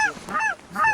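Cackling geese honking in repeated rising-falling calls, about three clear honks in quick succession, close and loud over an open hunting blind with no talk.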